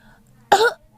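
A single short, sharp human cough, close and alone in otherwise quiet surroundings.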